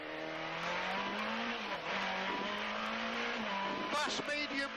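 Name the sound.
Peugeot rally car engine revving, onboard during Jersey Rally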